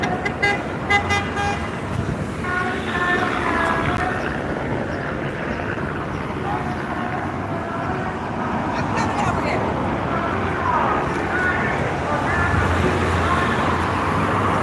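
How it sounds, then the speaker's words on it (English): Cars rolling past a street protest against immigration enforcement outside a detention center in Los Angeles, a steady roadway drone with occasional horn toots over a continuous murmur of crowd voices. "A few cars are starting to drive by and kind of like engage with people."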